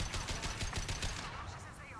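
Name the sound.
sniper rifle shots in the video game Mass Effect 2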